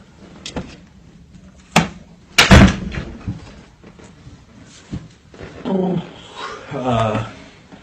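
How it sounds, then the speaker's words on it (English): Household door closing at home with a sharp thud and clatter, surrounded by smaller knocks and bumps, while people talk nearby. "Close the door."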